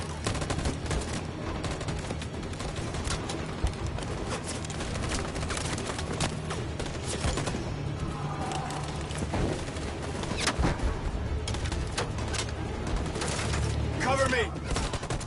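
Sustained gunfire from a firefight in the video game Detroit: Become Human, rapid overlapping shots and bursts over a loud, dense battle backdrop with continuous noise throughout.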